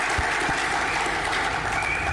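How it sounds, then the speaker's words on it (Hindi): Applause at a success seminar event, a steady wash of clapping from a crowd that sounds moderately distant and continues evenly. "इस साल के सक्सेस के लिए फिर एक बार आप सभी के लिए जोरदार तालियां।"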